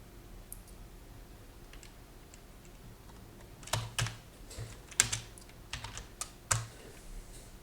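Close, fairly quiet typing on a computer keyboard during a live coding session, with soft irregular key taps and a few sharper clacks, no voice.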